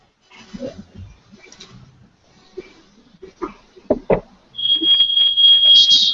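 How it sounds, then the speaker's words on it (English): Smoke alarm going off with a steady high-pitched electronic tone that starts abruptly near the end, loud and continuous, after a stretch of clicks, knocks and scattered background noise. "Somebody has an alarm going off."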